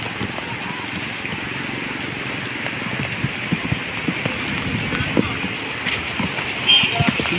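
Heavy typhoon rain from Typhoon Ulysses under Signal No. 3 in Santa Maria, Bulacan, a dense, constant roar of downpour on surfaces with scattered louder drops and splashes throughout.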